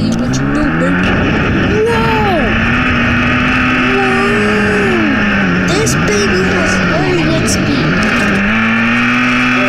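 A new car's engine revs in a video game, a loud, steady drone with pitch sweeping up and down through repeated throttle blips and gear changes, while people talk over it.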